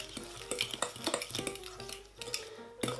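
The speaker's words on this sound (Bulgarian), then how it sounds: "Но първо леко ще разбъркам яйцата с захарта" Eggs and sugar are stirred in a bowl with a utensil, making quick, irregular scraping and clinking strokes against the sides, close and moderately loud, with short pauses between bursts.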